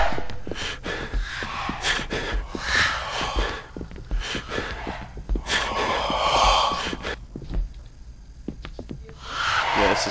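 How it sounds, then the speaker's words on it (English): Heavy, loud breathing in the horror video game Caged Fear, with ragged gasping inhales and exhales repeating over ambient game noise for about ten seconds, fairly close and with no speech. "this breathing's getting loud"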